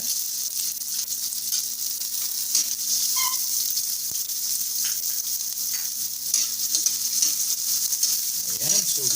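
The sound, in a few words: garlic and onion sautéing in a pan for sinigang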